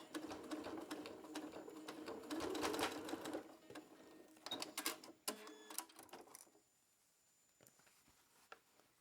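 A sewing machine stitching to join quilt blocks in quilt-as-you-go style, running in rapid mechanical bursts of needle clatter with short pauses, then stopping, heard close with no talk.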